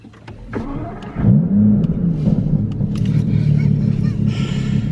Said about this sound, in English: It is a Brook Race exhaust, so we'll start the car up.